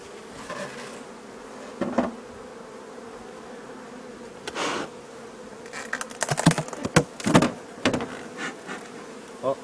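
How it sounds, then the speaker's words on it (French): A steady drone of honeybees around an open hive hums throughout, with scattered clicks and knocks rising toward the end, close up. "Ah, on voit déjà, il y a un peu plus d'abeilles."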